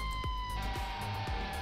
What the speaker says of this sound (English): get the lights on, and get the siren on too